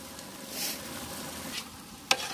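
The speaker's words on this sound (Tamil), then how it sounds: "இப்போ நெய் ஊற்றிட்ட உடனே நம்ம ஒரு வாட்டி நல்லா கலந்துக்கலாம்." Chicken biryani being stirred in a pot after ghee is added, village style, with soft faint scraping and a light sizzle and one sharp clink of the utensil near the end.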